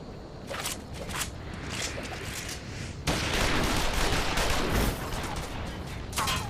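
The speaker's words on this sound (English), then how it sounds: "Shoot the bastard! Shoot him!" Dense gunfire in a Final Fantasy XIV battle scene, rapid overlapping shots that swell louder midway, steady and close, with scattered impacts and movement noise mixed in.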